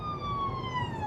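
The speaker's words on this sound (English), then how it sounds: "was a fire truck going past on the opposite direction" A fire truck's siren sweeps past heading the opposite way, its wailing tone sliding steadily lower as it passes, loud and continuous with no talking.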